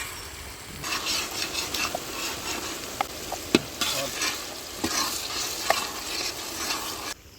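Ginger garlic paste fries in a large pot for a village-scale brinjal curry, a steady close sizzle with a ladle scraping and stirring, and occasional sharp metal clinks.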